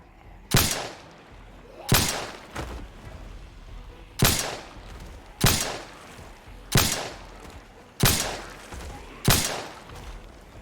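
Gunfire in the zombie survival game Project Zomboid: eight sharp, loud shots spaced roughly a second or so apart, each with a short decaying tail, standing alone without talk.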